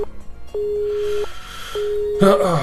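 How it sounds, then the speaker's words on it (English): Electronic busy tone after a phone call hangs up in the Nekopara visual novel: steady pulsed beeps, two long tones separated by a gap, clear and close, before music swells at the end. "the ruthless electronic buzz of the drop call echoed"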